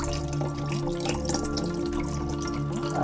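Blueberry Red Bull poured from a can into a mixed drink, a steady trickling, dripping liquid stream that continues throughout, fairly loud and close.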